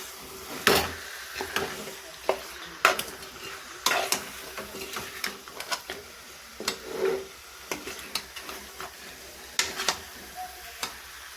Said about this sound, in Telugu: ఇప్పుడు ఈ పేస్ట్ మొత్తం ఈ ముక్కలకి పట్టేలా మొత్తం కలుపుకోవాలి.